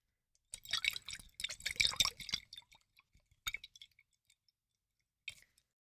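Close, quiet drips and liquid trickles with faint glassy clinks, a busy cluster of drops followed by a few sparse ones in silence.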